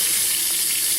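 Steaming hot bath water for a pet capuchin monkey runs in a steady, close wash of broadband noise, with no talk over it.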